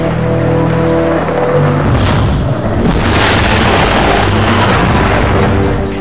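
Heavy rain pours steadily while deep rumbling booms of thunder roll through, loud and close.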